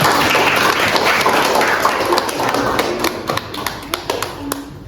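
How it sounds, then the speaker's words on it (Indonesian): Applause from an audience at an Indonesian university presentation session, loud mixed clapping that starts as a dense wash and thins into scattered individual claps toward the end, with some voices underneath. "Oke, tepuk tangan."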